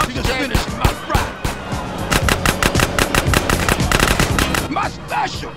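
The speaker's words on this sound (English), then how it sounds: "Now come on, Smoke. Shoot." Rapid machine-gun fire from the video game GTA San Andreas during a shootout, a fast loud rattling stream of shots, with voices speaking around it.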